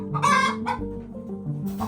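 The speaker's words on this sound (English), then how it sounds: "I think I saw a chicken coming out of here today." Hens cluck in a backyard chicken coop, a few close, loud calls in quick succession with a short crowing-like note, heard alone without talk.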